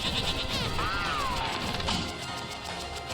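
A goat bleats in a duck-themed platforming video game, a rising and falling wavering cry over a busy, constant backdrop of game sound and a crashing thud.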